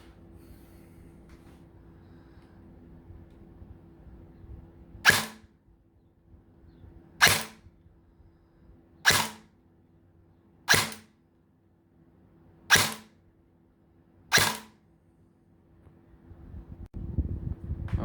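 Airsoft AK-12 rifle with an M130 spring firing 0.25 gram BBs: six sharp single shots spaced about two seconds apart, loud and close against light wind noise.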